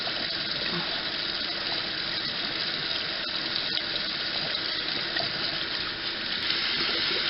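Steady running water pours continuously while a makeup brush is swirled under it, a broad even rush with faint clinks and movement mixed in, close by.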